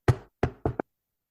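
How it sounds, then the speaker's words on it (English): Three knocks on a house door, the first two spaced apart and the last a quick double rap, crisp and close with silence between. "And you knock like this."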